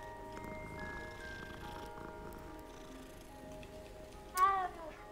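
A cat meows once near the end inside the Hogwarts Legacy video game, a short rising-falling call standing out over steady game music and ambient background.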